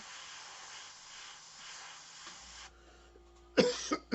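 An airbrush sprays paint for portrait work, making a soft, steady hiss for about two and a half seconds before cutting off. A few short, louder bursts of noise follow near the end.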